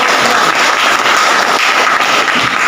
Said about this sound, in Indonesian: Ya, berikan aplaus kepada kelompok